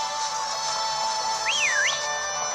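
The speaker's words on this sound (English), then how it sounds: "if I whistle at them, that'll get their attention" A short rising-and-falling whistle is aimed at wild Pokémon in the grass in Pokémon Shield. The one clear swoop sits over steady game background music.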